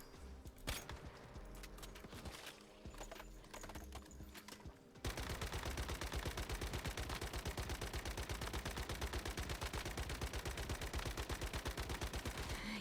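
Automatic gunfire in the video game Once Human: a few scattered shots over game ambience, then a long sustained stream of rapid, evenly paced rounds, loud and close, running unbroken to the end.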